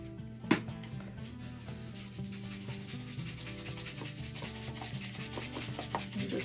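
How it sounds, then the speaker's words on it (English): Dry rub seasoning sprinkled onto baby back ribs, a steady soft rubbing and grainy patter after one sharp tap, under quiet background music. "And just sprinkle it on the ribs."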